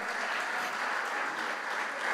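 Loud, steady applause from a church congregation fills the space, dense clapping sustained without pause under no talk.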